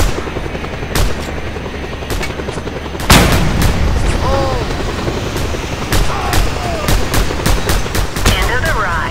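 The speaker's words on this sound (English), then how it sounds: "I'm sniping with a pistol." Pistol gunfire in the Just Cause 2 video game, with sharp repeated shots cracking over a constant loud rumble of engine or helicopter noise, one heavy blast standing out near the start.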